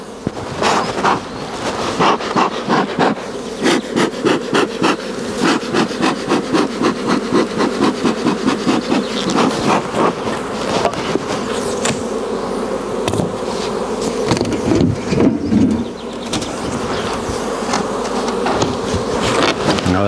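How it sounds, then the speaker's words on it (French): Honeybees buzz thickly around open beehives during a hive inspection, a dense continuous drone close by, mixed with scraping, knocking handling noises of wooden frames. "Je fais attention de ne pas écraser d'abeilles. Elles volent de partout là."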